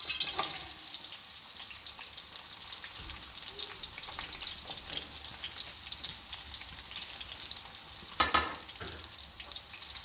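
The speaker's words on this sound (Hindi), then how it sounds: "हमारा तेल गर्म हो गया, अब हम प्याज ऐड करेंगे इसमें।" Onions sizzle and fry in hot oil in a pan for a chicken aloo biryani, a steady bright hiss with a few soft clinks and stirring sounds, close and continuous with no talking.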